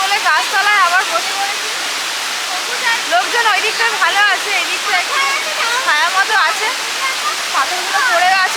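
Ushri river waterfall in Jharkhand roars steadily and loudly, a constant rushing wash of falling water with people talking and voices chattering over it.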